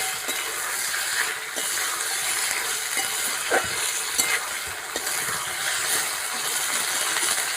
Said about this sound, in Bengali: এবার আমি ঢাকনা তুলে কেটে রাখা ডাঁটাগুলো দিয়ে দেবো।